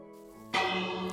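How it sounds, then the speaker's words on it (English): A church-style bell in the video game New in Town strikes once with a sudden loud clang, its bright ringing tone sustaining and slowly fading after a quieter tonal lead-in. "The bell rang."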